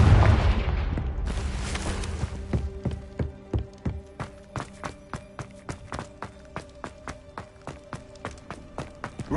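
A Confringo spell in Hogwarts Legacy lands with a booming burst that fades out, followed by a long run of evenly spaced sharp taps like quick footsteps, fairly near and moderately loud.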